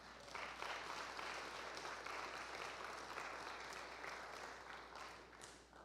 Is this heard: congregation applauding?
yes